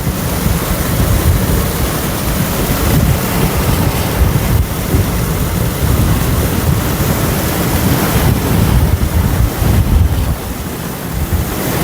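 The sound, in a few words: water filling a water tanker truck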